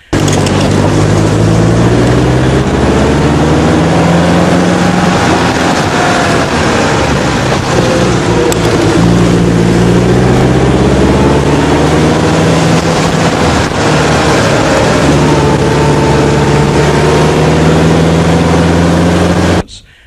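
A 73-year-old Alvis Firebird vintage car drives with its engine loud and close, the pitch rising and falling through gear changes over a steady rumble until it cuts off at the end.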